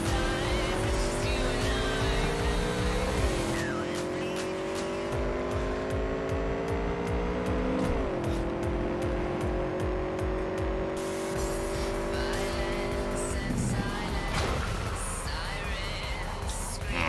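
In the video game Cyberpunk 2077, a car engine roars as the tires squeal and the car spins around, its pitch sliding with the revs in a loud, continuous stretch.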